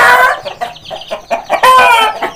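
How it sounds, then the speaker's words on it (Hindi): Aseel chickens cluck and squawk loudly at close range, a quick run of harsh bursts with a longer strained call near the end. "ये मुर्गे हैं"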